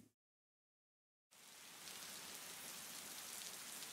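Steady falling rain starts abruptly after a moment of silence, then holds as a dense, even hiss of drops on surfaces at moderate loudness.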